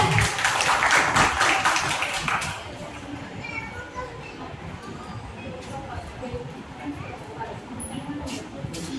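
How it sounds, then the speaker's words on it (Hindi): Audience clapping at a culture fest, a loud burst for the first two seconds that fades into crowd chatter and scattered noise, with children's voices mixed in. "जोरदार तालियां हो जाए एक बार।"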